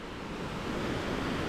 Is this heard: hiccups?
no